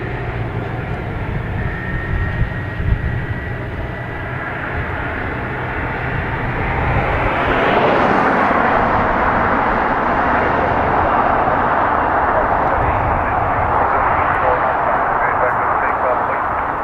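An ATR turboprop airliner departs Dublin Airport for Jersey, its broad engine roar swelling past the midpoint and holding loud and steady, with people talking over it.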